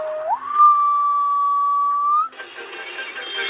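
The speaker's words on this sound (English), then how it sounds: "Suddenly he heard an engine whistling." A single long steam engine whistle rises in pitch and holds steady for about two seconds, then cuts off into a hissing rush.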